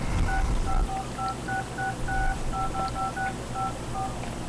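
Telephone keypad tones beep out a simple melody on a phone that cannot place or take calls, as short paired tones in an uneven rhythm, clear and close over low background hum.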